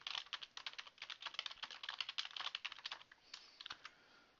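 Quick typing on a computer keyboard at a desk; rapid, fairly faint clattering keystrokes in an uneven rhythm, slowing toward the end, with no voices.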